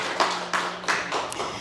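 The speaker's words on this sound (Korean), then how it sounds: "하나님 영광의 박수." A church congregation in Incheon claps in unison, a run of sharp, evenly spaced claps in a reverberant hall.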